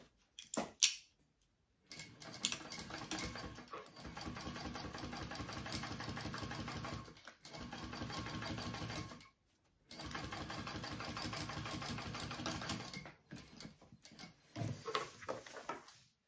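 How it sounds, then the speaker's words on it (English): A sewing machine top-stitches along a fold on a handbag, running in several long, steady whirring bursts of a few seconds each, separated by short silent pauses, close and alone. "I will top stitch along this top part here, this fold up here where we just sewed that line"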